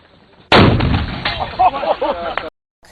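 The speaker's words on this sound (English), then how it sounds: "A little sympathetic detonation there." Explosions from sympathetic detonation: one sudden, loud blast gives way to a continuous rough roar and rumble that carries on for about two seconds, then cuts off abruptly.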